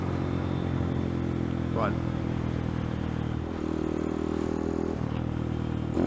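A small motorbike engine idles steadily and close by, a continuous low hum with a brief shift in pitch partway through, while someone talks over it outdoors.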